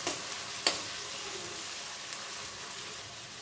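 Chopped tomato stirred into onions frying in a pan: a soft, continuous sizzle with a sharp utensil clink early on and a few lighter scraping taps afterward.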